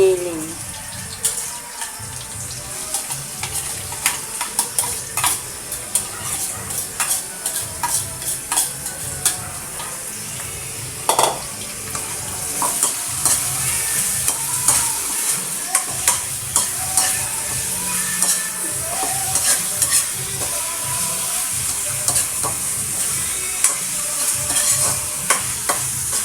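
Ground meat sizzling in a pan over browned garlic and cooked onion for spaghetti, with frequent spoon stirs and scrapes over a steady fry, close up and without talk.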